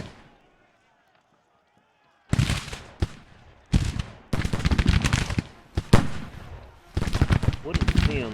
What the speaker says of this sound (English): finally he's firing at them.